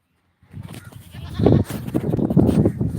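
Goats bleat loudly and close by, several overlapping calls starting after a brief silence and carrying on almost without pause to the end.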